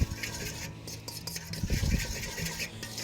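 Beet salad ingredients with orange segments are tossed in a bowl, giving quiet clinks, taps and scraping stirs of a utensil against the dish, unevenly paced.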